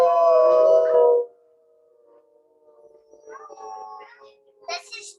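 A voice imitates a long, loud howl lasting about a second, followed by quieter scattered sounds and a brief high burst near the end.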